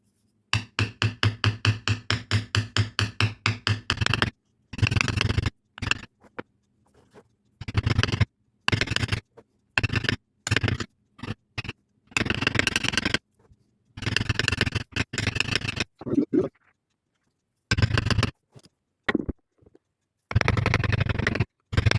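Steel chisel struck by a hammer while tooling a diamond background pattern into a leather Coleman lantern case for a 242C, a fast run of rapid even taps followed by bursts of repeated strikes separated by pauses, close and distinct.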